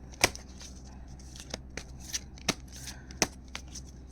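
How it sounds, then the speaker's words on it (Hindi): Tarot cards being shuffled by hand, a quiet close-up riffle with soft crackling flutter and several sharp snaps and taps scattered across a few seconds, with no voice over it. "तो चलिए इसको शफल करते हैं"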